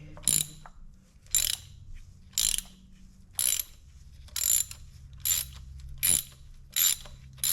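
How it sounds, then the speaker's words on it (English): A hand ratchet clicks in separate bursts while loosening the spark plugs on a 2020 Hyundai Veloster 2.0 base engine. There are about eight loud, close, evenly spaced rapid clicking runs with short quiet gaps between them, and nobody talks. "let me go take off the spark plugs"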